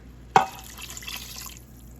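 A brief splash followed by about a second of water pouring and trickling into an Instant Pot of beef curry, close by, then quiet.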